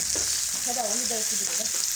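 Steady sizzling of rohu fish frying in hot oil, a bright continuous hiss with faint clinks and a soft voice murmuring underneath.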